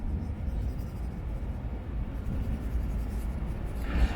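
A pencil drawing on paper is being smudged to soften the hair and lines of a portrait, giving a close, continuous soft rubbing and scratching over a low room rumble, with no talking.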